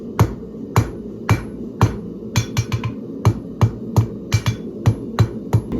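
Hammer blows on hot metal in a nail header while forging rivets at a blacksmith's anvil, a series of sharp metallic strikes in uneven bursts, some single and some in quick clusters, close and clear with no talk.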